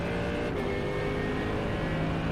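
A GT3 race car pulls hard out of a corner at Daytona in a sim racing game, its engine a steady, loud, rising drone with tonal whine and no talk over it.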